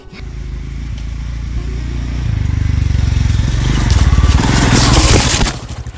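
A Royal Enfield Scram 440 motorcycle rides off-road over leaves and stones, its engine rumbling steadily up close as crunching and scraping from the tyres swell louder before cutting off near the end.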